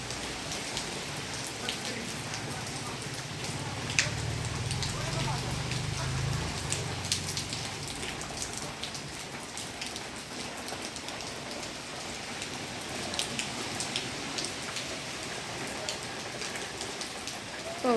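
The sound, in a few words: heavy rain falling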